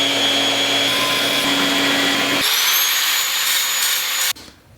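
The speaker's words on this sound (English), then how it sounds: "I'm going to go ahead and cut this section out" A power tool steadily cuts into a quarter-inch metal plate for a motorcycle brake mount, a continuous whining grind that changes pitch partway through, then stops abruptly near the end.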